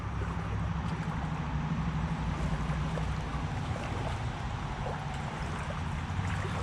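A small creek runs along a highway, giving a steady, soft rush of flowing water that holds broadband and unchanging for several seconds, with no voices.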